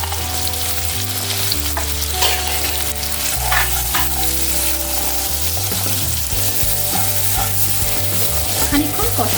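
Snakehead fish being stir-fried with coriander, cumin, chilli powder and salt, a loud close sizzle broken by scraping stirs at an even pace.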